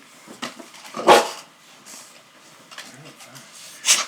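A few sharp dog barks at irregular intervals, close by, with quieter rustling and movement in between.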